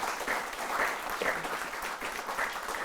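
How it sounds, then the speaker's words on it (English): An audience at a women's football panel event applauds the panellists, a fairly faint but steady patter of clapping heard from a distance. "big round of applause for our panellists who have been amazing"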